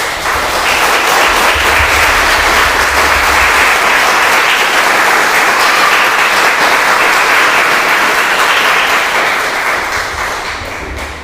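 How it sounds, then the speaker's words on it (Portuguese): A church congregation claps loudly and continuously in worship, a thick, even roar of many hands that holds steady for several seconds before tapering slightly at the end. "Então, uma salva de palmas bem forte para o Senhor Jesus."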